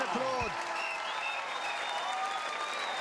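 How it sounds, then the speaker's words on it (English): Applause from a darts tournament crowd on a stage, heard as a steady wash of clapping under a broadcast voice and tonal background sounds throughout. "stand and applaud"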